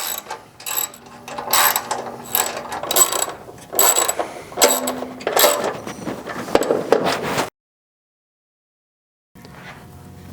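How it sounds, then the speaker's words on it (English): A 13mm socket wrench snugs the four corner bolts on a HappyJapan embroidery machine stand: close, repeated bursts of ratcheting clicks, then silence before a faint rustle. "using, again, our 13mm socket wrench to snug but not completely torque down the 4 corner bolts"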